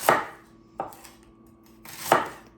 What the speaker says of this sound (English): and then I just chop it into slices